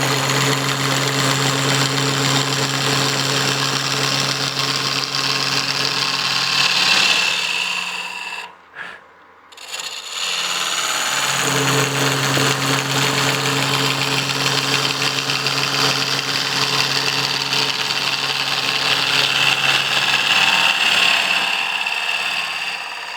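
A woodturning lathe spins as a 40-40 grind gouge makes cuts into the wood, giving a loud, continuous whirring scrape that drops out briefly midway before resuming.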